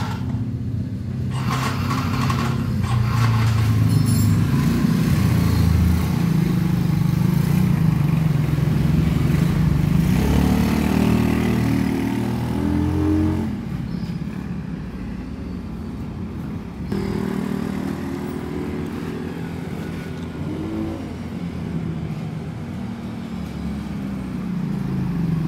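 A motorcycle converted from fuel injection to a carburetor idles steadily after being started, its engine loud and close with a continuous low rumble that dips slightly partway through.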